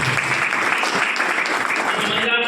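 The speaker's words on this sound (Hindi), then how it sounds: "दमदार ताली हो जानी चाहिए।" Audience applause at a business seminar, a steady wash of clapping from a crowd that holds for the whole stretch with no break.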